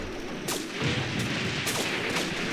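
Mortar blasts and gunfire from a Graviteam Tactics: Mius Front battle, with several sharp broadband bangs spaced about a second apart over a steady rumbling war backdrop.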